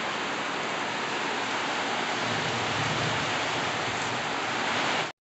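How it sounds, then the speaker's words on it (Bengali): Heavy rain pours steadily during a storm, a dense, loud, unbroken wash of noise that ends abruptly. "একদম পুরো ঝড় আর বৃষ্টি"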